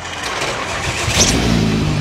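A Nissan Skyline R32 wagon's engine cranks and catches at a car meet, its loud, steady rumble filling the whole stretch with a brief swell partway through, close to the car.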